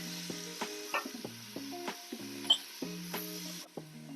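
Onions sizzle in oil in an Instant Pot and are stirred, giving a steady close frying hiss broken by repeated clinks and scrapes of the spoon against the pot.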